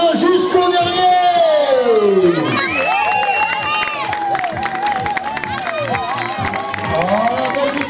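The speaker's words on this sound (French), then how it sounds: "On commence à applaudir maintenant jusqu'au" Spectators cheer and clap at the finish of a children's race in Mugron, France, a lively crowd with shouting children and an announcer talking over it throughout.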